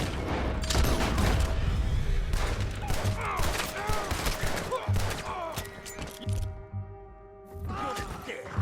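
Gunfire in Red Dead Redemption 2 during a standoff with United States Army soldiers over cargo, several loud sharp shots and a volley early on, then scattered cracks with some voices over the action.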